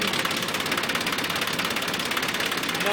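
A small red diesel tractor engine runs steadily at idle close by, a continuous rough mechanical drone with no breaks.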